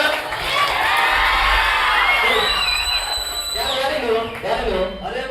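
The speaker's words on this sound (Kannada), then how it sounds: "ಜೋರಾದ ಚಪ್ಪಾಳೆ" Students at a St. Ann's PU College and high school Children's Day event cheer and whoop loudly as a crowd, with high shouts and shrill tones rising over sustained close noise.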